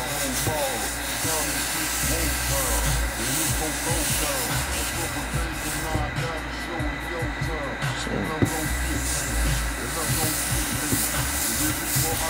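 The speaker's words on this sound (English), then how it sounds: "And you'll be seeing some steam, so be careful with the hot steam." Hot steam hissing steadily onto the creased toe box of a sneaker, a continuous loud rushing hiss from close by that fills the whole stretch without pause.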